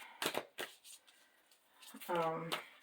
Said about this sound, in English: clean them up and shuffle, shuffle, shuffle, shuffle, shuffle, shuffle to move the energy.